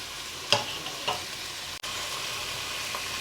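Onions fry in peanut oil in a pan, a steady close sizzle broken by a couple of stirring scrapes, with no one speaking.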